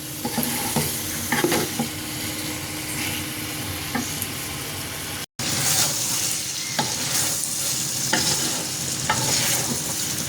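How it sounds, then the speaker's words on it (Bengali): Drumstick pieces sautéing with spices in a pan for masoor dal: loud, steady sizzling with constant scraping stirs, briefly cut off midway, then resuming. "এভাবে 10 মিনিট কষিয়ে নেব"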